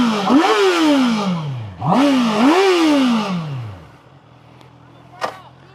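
Kids rev a motorcycle engine in a few sharp bursts, the pitch climbing and falling with each twist of the throttle, loud and close. A brief clack comes after the engine settles to a low idle.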